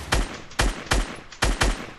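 Five loud, sharp gunshots in a video game, fired in a fairly even rhythm about every third of a second, each with a punchy crack and a short decay, with no voices over them.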